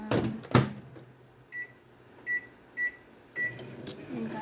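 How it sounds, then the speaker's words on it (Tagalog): A home microwave oven hums quietly after a door clunk, then gives a series of four short beeps, followed by another knock. "isasalang ko sa microwave"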